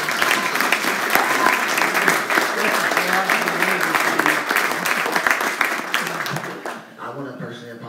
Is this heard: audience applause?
yes